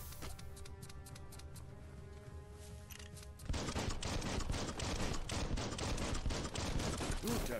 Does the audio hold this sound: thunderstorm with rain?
no